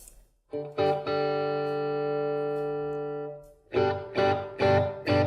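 An electric guitar chord through a Blackstar HT Dual overdrive pedal rings out and sustains for a couple of seconds, followed by three short, punchy strummed chords.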